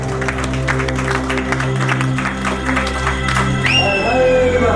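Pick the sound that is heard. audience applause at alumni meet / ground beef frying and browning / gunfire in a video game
audience applause at alumni meet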